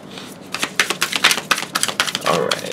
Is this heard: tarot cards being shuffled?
yes